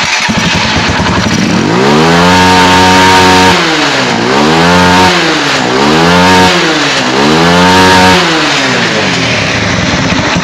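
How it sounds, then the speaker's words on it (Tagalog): A motorcycle engine revs hard several times in a row, each rev rising and falling in pitch, loud and close with no talking. "Bumibirit na yung motor."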